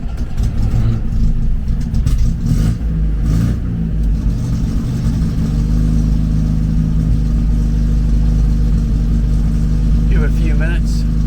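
An MGB sports car engine runs, a loud, close, steady idle rumble that holds throughout, with faint voices at moments.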